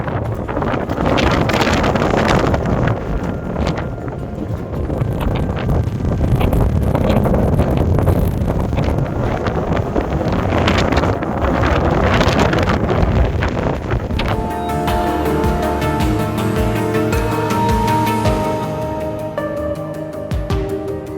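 Strong gusting wind buffets the microphone on a wet Scottish hillside near Meall Bhuidhe in Glen Lyon, roaring loudly for most of the stretch before easing into quieter, clearer outdoor sound near the end.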